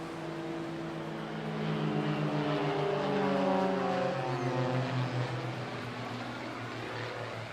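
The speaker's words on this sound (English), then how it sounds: "Tom's regular aircraft since then has been a CAP 232" CAP 232 aerobatic propeller plane flying at an air show, a steady droning engine note that swells louder in the middle as it passes, with the pitch shifting downward, then holds at a fairly constant level.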